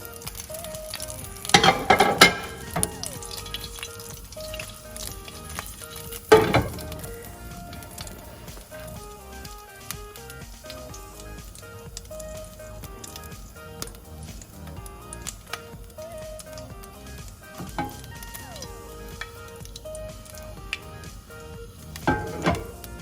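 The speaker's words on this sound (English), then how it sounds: "Now I'm adding mustard and jeera to the coconut oil for tempering." Mustard and cumin seeds sizzle and crackle in hot coconut oil with a steady frying hiss, broken by a few louder clatters of a spoon against the pan.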